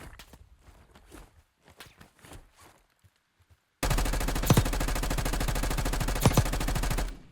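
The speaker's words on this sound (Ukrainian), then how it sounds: "а ти звідки стріляєш?" Gunfire in a shooter video game, likely an XM4 rifle: sustained loud bursts of automatic fire with sharp cracks, following a quieter stretch of footsteps and scattered shots.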